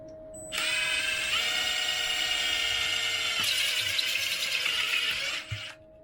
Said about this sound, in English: So drill the back of this out